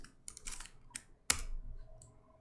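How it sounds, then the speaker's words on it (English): Code typed on a computer keyboard: a few quick clusters of close keystrokes and one sharp louder key tap, with no voice. "Just type export class"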